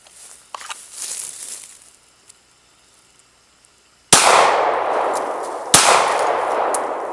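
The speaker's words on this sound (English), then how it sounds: "let's try a little bit of the Glock and see how I do on my little cheap target down here" Two sharp Glock pistol shots ring out a couple of seconds apart from about 20 feet, each followed by a metallic clang off a cheap steel target and a lingering ring. Quieter handling noise comes before them.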